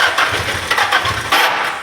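Nissan SR20 engine swapped into a Mazda MX5 NC, running rough on a dyno with an uneven, stumbling misfire; loud pulsing exhaust chugs with irregular bursts, close and continuous with no talking.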